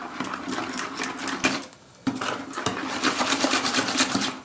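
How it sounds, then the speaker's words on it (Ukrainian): A spoon or whisk rapidly stirring kefir mixed with baking soda in a bowl for apple pancake batter, a fast steady rattling beat close up, broken by one short pause before resuming. "Вливаємо кефір, додаємо соду, перемішуємо."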